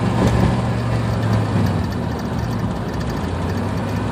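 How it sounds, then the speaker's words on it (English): A Chevy 350 truck engine with a failing transmission runs steadily and loud at close range, a constant low rumble with a broadband roar, alone with no talk. "I can hear my motor ticking again because it's getting wore out"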